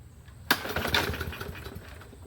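Small engine on a 21-inch Murray push mower cranking after starting fluid is sprayed into the carburetor throat: one sharp pull onset, then a rough, uneven churning that doesn't catch, close and fairly loud.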